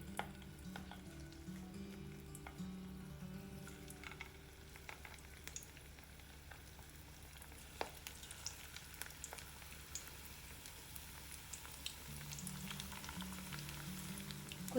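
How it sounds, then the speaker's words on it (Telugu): Small sago bondas deep-fry in hot oil over a medium flame, a soft continuous bubbling sizzle with scattered crackles and pops, occasional clinks of a ladle turning them. "కొద్దిగా వేగాక తిప్పుకుంటూ క్రిస్పీగా అయ్యే వరకు వేయించుకోవాలి"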